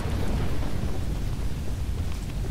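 Heavy rain and rumbling thunder fill a scene in the video game Choo-Choo Charles, a dense continuous downpour with deep low rolling booms, loud and steady throughout with no talk.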